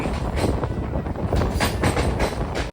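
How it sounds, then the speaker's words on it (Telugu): The Ratnachal SF Express rolls along the rails near Tadepalligudem, giving a loud, close, continuous rumble with rhythmic wheel clatter and wind buffeting, with no voices. "ట్రైన్ వచ్చేసి తాడేపల్లి గూడెంకి అయితే వచ్చింది బయలుదేరింది"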